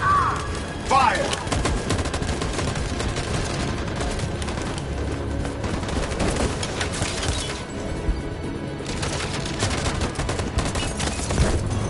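Dense bursts of rapid gunfire from a squad shooting in Detroit: Become Human, loud and sustained across the whole stretch, with overlapping shots, crashes and a brief shouted voice at the start.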